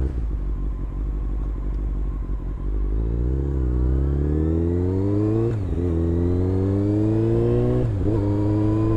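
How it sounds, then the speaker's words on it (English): A crashed Subaru with deployed airbags still being driven, its exhaust droning steadily and climbing in pitch as the car accelerates, with brief dips and rises between gear changes; loud and close, no talking. "It's still riding. That's the exhaust."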